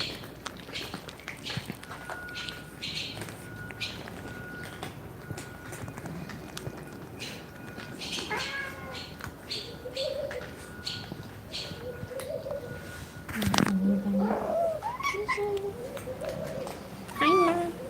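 Short meows from a talking cat at a rescue shelter, a blind cat with a cold, come in a few brief calls near the end against a background of low room noise and shuffling.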